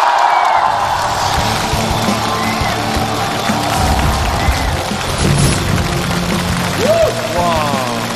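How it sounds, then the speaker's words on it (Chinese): A studio audience applauds and cheers loudly and steadily as a challenger enters a stage show featuring a giant seesaw, with faint voices and a rising tone near the end. "掌声有请挑战者出场。"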